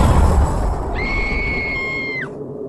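A girl in an animated horror story lets out a single sustained high scream lasting just over a second, rising and then sliding down at the end over a low background rumble.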